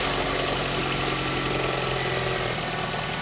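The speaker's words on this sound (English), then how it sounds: "So I'll go ahead and start the engine now." A Toyota RAV4 engine, under test for an EGR valve diagnosis, runs at a steady idle close to the microphone with a continuous mid-pitched hum and a slight knocking vibration. No start-up crank is evident.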